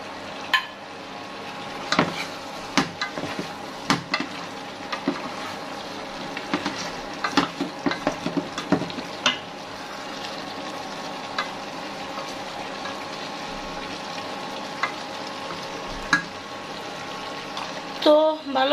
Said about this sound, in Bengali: এখন আমি টমেটোগুলিকে দিয়ে দিব।